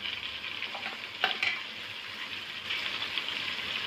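Food sizzles in a pan as salt, turmeric and asafoetida are stirred in, a steady close frying hiss with a couple of brief scraping knocks from the stirring and no voices.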